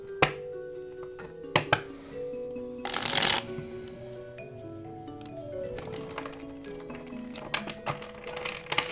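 A deck of tarot cards being shuffled by hand: scattered soft flicks and riffles with one denser burst of rapid card flutter in the middle, set against quiet background tones.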